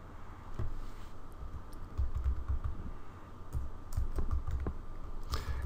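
Quiet, steady typing on a computer keyboard, with irregular key clicks and a few sharper taps near the end.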